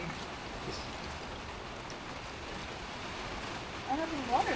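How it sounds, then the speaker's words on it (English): Steady rain in a downpour drums on a greenhouse, a dense even hiss of drops close by, with a few faint duck-like sounds rising near the end. "Wow, listen to the rain."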